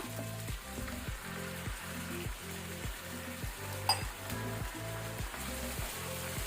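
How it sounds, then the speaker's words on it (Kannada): Chicken pieces frying in an open pan after half a glass of water goes in, with a steady hiss and sizzle and a regular, rhythmic scraping as the mix is stirred, close up and alone. "ಗ್ಲಾಸ್ನಷ್ಟು ವಾಟರ್, ನೀರು ಹಾಕೊಳ್ಳುವ."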